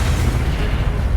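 An Incendio fire spell blast in the game Hogwarts Legacy, a heavy low rumbling boom that holds steady and loud across the whole moment with no clear separate hits.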